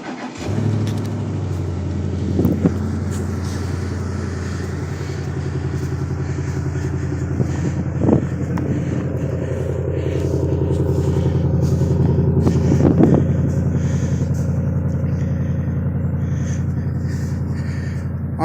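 Truck engine starting in snowy, frosty conditions after a storm, cranking briefly then settling into a steady low idle that continues throughout, with a few faint knocks over the rumble.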